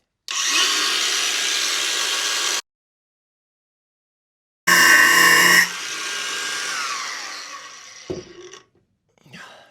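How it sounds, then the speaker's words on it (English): A cordless angle grinder cuts metal on a van camper build, with two loud bursts of high whining and grinding separated by silence. The second burst drops into a lower, fading spin-down, followed by a few knocks. "They're somewhat cut now, so put the angle grinder aside."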